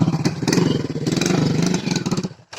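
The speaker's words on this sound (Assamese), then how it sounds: "এই ভাইটিয়ে বাইক ষ্টাৰ্ট দি আছে।" A motorcycle engine is started and revved in the open beside paddy fields at Mayong in Assam. The throttle pulses loudly and close by for a couple of seconds, then cuts off abruptly.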